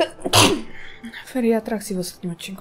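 A single loud, sharp sneeze bursts out near the start, followed right after by someone speaking in Polish, during a casual gaming session.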